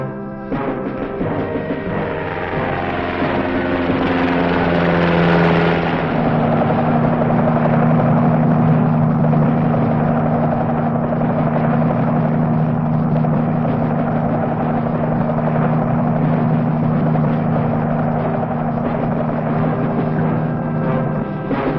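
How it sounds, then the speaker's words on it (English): Armed Navy gunship helicopters fly past, a loud steady engine and rotor drone that swells to a peak and then holds as a continuous roar, alone with no talk. "Armed Navy patrol boats and gunship helicopters answer the challenge."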